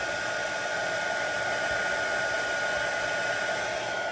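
A heat embossing gun blows steadily and loudly as it sets embossing powder on a papercraft card. The even, hair-dryer-like roar never changes pitch or volume.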